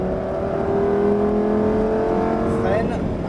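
A Lamborghini sports car engine holds a steady, loud drone under acceleration during a track driving session at Trappes, with a rising whine near the end; an instructor's voice talks over it throughout.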